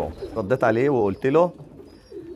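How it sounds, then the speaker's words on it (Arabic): Meat pigeons coo inside a pigeon loft, a close run of deep, wavering, throaty calls, with someone talking over them. "هتشوف الحمام شغال ومعاه زغليل او معاه بيض"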